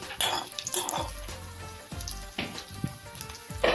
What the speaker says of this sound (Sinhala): ඉස්සෙල්ලම අපි මස් ටික තෙලට දා ගන්න ඕනේ.